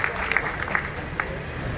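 Audience applause at an honouring ceremony at Kashi Vidyapith in Varanasi, a steady patter of many hands clapping at moderate distance with a few sharper individual claps standing out.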